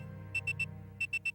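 Two quick bursts of three high electronic beeps, like an old stopwatch alarm, in the video game Phantasy Star Universe, crisp and close over a low background hum.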